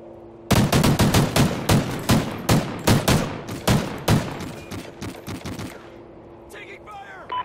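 Automatic gunfire in a search-and-destroy round of a multiplayer shooter video game: a loud, rapid string of shots rattles for about five seconds in close bursts, then cuts off, leaving faint game sounds.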